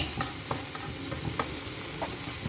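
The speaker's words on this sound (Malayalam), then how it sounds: "ഞാൻ ഒക്കെ കൂടി മിക്സ് ചെയ്യട്ടെ നല്ല ഇളക്കി കൊടുക്കട്ടോ" Chili powder being stirred into onions in a hot pan, a constant close sizzle with regular spoon scrapes and taps about twice a second, no talking.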